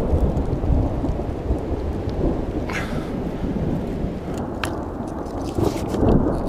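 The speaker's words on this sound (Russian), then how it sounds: "Вот он, раскаты грома, ребята." Thunder rumbles low and continuous over steady rain in a forest during a May thunderstorm, with a few sharp crackles and drips near the end.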